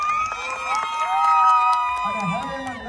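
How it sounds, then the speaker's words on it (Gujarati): A crowd claps and cheers for a Shiv Shakti garba dance class on the first night of Navratri, a steady wash of applause and shouts under bright music and voices. "એક વખત શિવ શક્તિ ગ્રુપ માટે જોરદાર તાળી થઈ છે"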